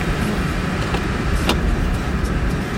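A car engine running while still cold, idling with a steady low rumble close by and a brief click partway through, no talking.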